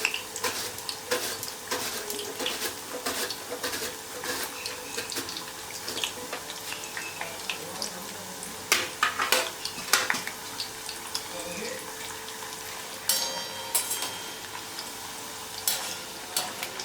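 Banana slices frying in oil over medium heat while being stirred, a continuous close sizzle broken by scraping and clinking stir strokes, with no clear speech.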